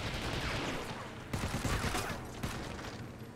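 Rapid hip-fired gunfire in Medal of Honor: European Assault on PS2, loud close bursts of automatic shots crackling over a few seconds, with a voice talking underneath.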